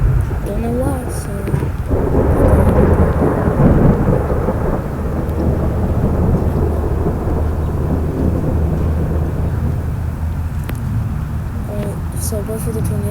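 Thunder in the Roblox storm-chasing game Storm Inc rolls in a continuous deep rumble with rain hiss, loud and sustained throughout, with brief crackling bursts near the start and end.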